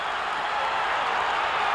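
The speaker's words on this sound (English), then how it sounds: "Listen to this crowd." A wrestling arena crowd at a 1982 Southwest Championship Wrestling match roars and applauds in a steady, dense wall of cheering that holds without a break.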